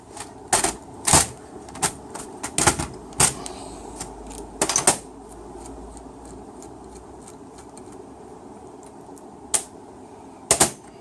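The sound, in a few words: undoing bolts off a transmission solenoid block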